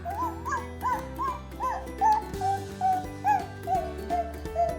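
A toddler imitates a dog with a run of short, high, yipping barks and whimpers, evenly spaced and close, over soft background music.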